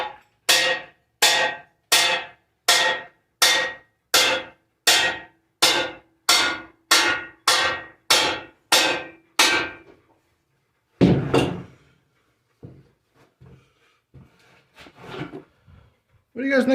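Hammer striking a steel tractor bumper frame in a workshop, about a dozen loud, evenly spaced metallic blows in steady rhythm, then a pause followed by a few scattered knocks and clunks.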